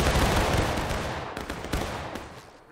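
A close, loud volley of rifle fire rings out on command, a sharp burst of several near-simultaneous shots followed by a few scattered later cracks as the echo decays.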